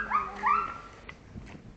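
Rising, whining dog whimpers, two drawn-out cries close by, followed by a few soft, short yips fading off.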